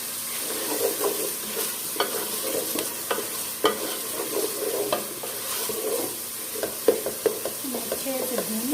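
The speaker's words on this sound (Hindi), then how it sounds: "अच्छे से भून लूँगी।" Garlic paste fries in a pan for a chana dal and karela sabzi, a soft steady sizzle under repeated scraping stirs with a spoon, fairly close.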